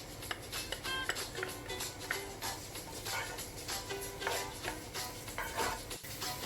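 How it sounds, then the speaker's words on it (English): Garlic stir-frying on high heat in sesame oil in a hot pan, a steady close sizzle with scraping and clinking of a utensil against the pan throughout. "I'm going to stir fry the garlic for about 2 minutes on high flame"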